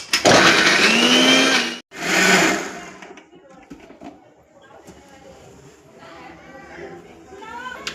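Small onions and tomatoes, three of each, whirring in a kitchen mixer grinder for paneer chilli: a loud, dense motor roar for about two seconds, a brief cut, another burst, then fading into quieter kitchen sounds with talking.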